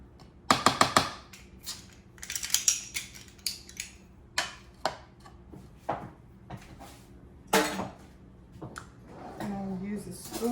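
A spoon mixes minced garlic in a bowl for a Thanksgiving stuffed chicken dish, giving a series of sharp irregular clinks and scrapes, some in quick bursts, others spaced apart.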